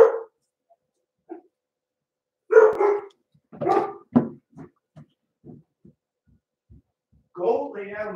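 A dog barks indoors in a series of short, sharp barks spread across several seconds, mixed in with a person talking nearby.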